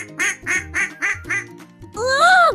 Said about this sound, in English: Next, they saw ducks swimming in the pond.